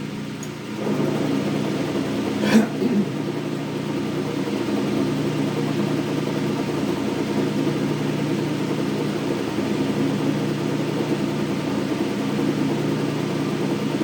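A Hendey lathe turning at 29 RPM gives a steady, even mechanical drone with a faint whine, alone and unchanging, with one brief knock near the start.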